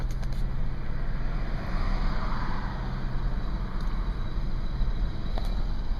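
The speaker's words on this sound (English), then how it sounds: "I'm stuck in traffic" Low, steady road noise from a car stuck in a traffic jam, a continuous engine and road rumble with faint passing sounds and no talking.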